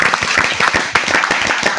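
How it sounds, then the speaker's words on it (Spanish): A gathering of pastors and congregations applauds the Lord with hands raised, brisk close clapping with distinct individual claps in a quick uneven rhythm, heard alone. "Dale un fuerte aplauso al Señor"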